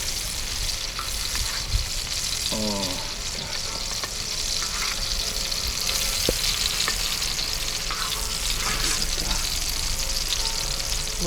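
Funchoza glass noodles frying on a sadj, a domed iron griddle, outdoors at a dacha: a dense, continuous hiss and sizzle throughout, with a few faint scrapes and clicks on top.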